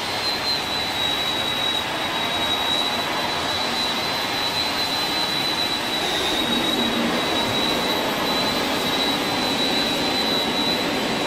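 Airliner jet engines whine and roar while taxiing on the ground in Flight Simulator X, a continuous loud, even drone with a high steady tone and no voices.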